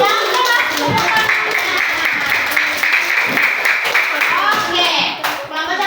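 Schoolchildren in a classroom clap loudly for a group of classmates, a busy, sustained burst of many hands mixed with children's voices and chatter that tapers off near the end.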